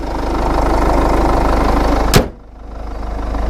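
A Jeep Liberty's 2.8 liter turbo diesel idles with a steady, close, pulsing clatter. A single sharp knock near the middle briefly dips the sound before the even idle returns, with no talking.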